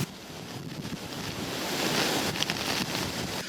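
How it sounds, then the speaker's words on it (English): A storm in Halifax brings heavy wind gusts and torrential rain, heard as a broad roaring rush with microphone buffeting that swells toward the middle, fairly loud and continuous, with no voices. "Heavy wind gusts and torrential rain hammered Halifax early Saturday afternoon"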